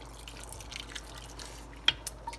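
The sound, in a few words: water added to pot of green bananas and goat meat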